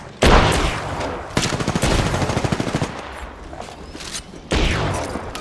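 Rapid automatic gunfire in the Apex Legends video game: loud bursts of close, rattling shots, with one sustained rapid-fire string in the middle and sharp separate blasts at the start and near the end.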